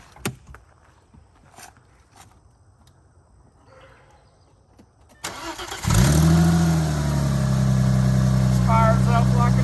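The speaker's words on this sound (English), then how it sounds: "I'm going to go ahead and crank it over, make sure the thing starts up" Quiet rustling and a few clicks, then an Audi B6 A4 with a swapped 2.7T engine and incomplete exhaust cranks and catches, roaring to life and settling into a loud steady idle close by.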